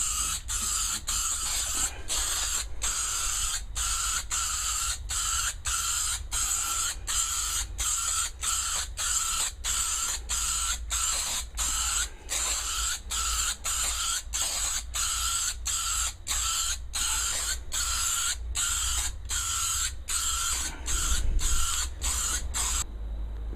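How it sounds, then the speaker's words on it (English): Rattle-can spray paint applying racer spec matte black to a car's interior floor pan, a run of short hissing bursts in a quick regular rhythm, close and loud over a low steady background hum. "one spray bomb racer spec black interior"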